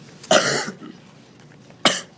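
Two sharp human coughs, a longer harsh burst followed after a pause by a shorter one, close and loud with quiet room tone between.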